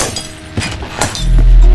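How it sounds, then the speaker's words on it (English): Glass shattering in the Roblox game Doors, a few sharp breaking and clinking bursts in quick succession, followed by a low rumbling swell as the effect rings out. "The glass shatter sound."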